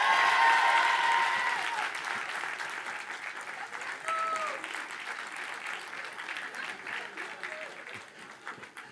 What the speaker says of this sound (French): La copine descend et le public l'applaudit.